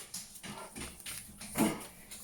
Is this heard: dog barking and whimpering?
yes